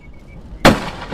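A lightning strike near a Prius lands as one sudden, loud crack after a quiet lead-in, then decays into a rumbling tail.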